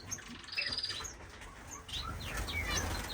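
Finches chirp and tweet in a bird breeding room stocked with parrot finches and other finches, the busy, overlapping high calls coming from several birds close by, with a brief flutter of wings now and then.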